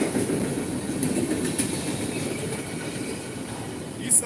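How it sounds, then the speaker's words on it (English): A train passes nearby on a rail line, its steady rumble and clattering wheels continuous and fairly loud, with a brief squeal near the end. "It's like trying to let the train go by."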